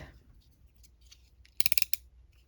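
A knife slicing through paper during a junk-journal envelope craft, heard as a quick burst of five or six sharp crisp cuts after a quiet stretch, fairly close and clear.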